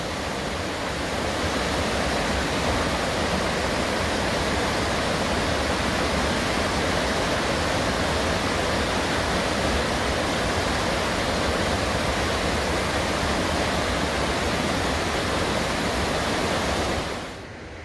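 Benham Falls in Deschutes National Forest roars as a continuous broadband rush of falling water, steady and dense throughout, heard from above at a moderate distance, cutting off abruptly at the very end.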